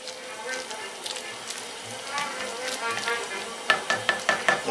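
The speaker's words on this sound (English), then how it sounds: "scrape the side of the pot" Chili being stirred in a pot, a spoon scraping along the bottom and sides, with soft sizzling and a run of sharper scrapes near the end, under faint talk.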